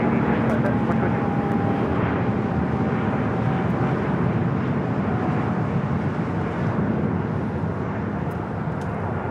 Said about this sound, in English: It's amazing how the Dreamliner, we see that same thing. It just lifts the whole aircraft.